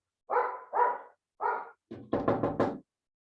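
A dog barks close by: three separate single barks, then a quick burst of several more in a row, with silence around them and no talking.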